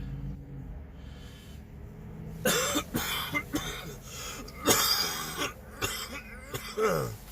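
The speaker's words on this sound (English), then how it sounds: "I am sorry for the coughing." A person coughs repeatedly and harshly on a cold, rainy Austin street, a burst of several loud, close coughs following a quieter stretch.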